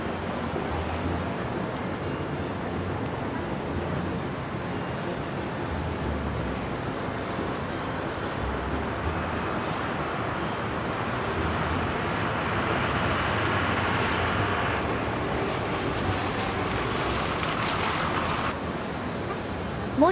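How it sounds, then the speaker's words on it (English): A bus rumbles steadily along a road amid constant traffic noise, a broad continuous roar that swells slightly midway and then settles. "Bus."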